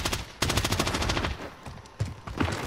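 Rapid bursts of automatic gunfire in a video game rattle loudly and close, with a brief lull before another burst cuts in near the end.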